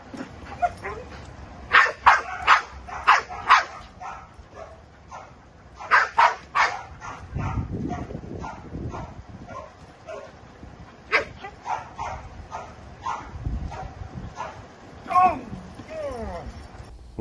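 A protection dog guarding an object during training barks in repeated loud bursts, close up, with clusters of barks, some whimpers and yips in between, and people talking under and between the barking.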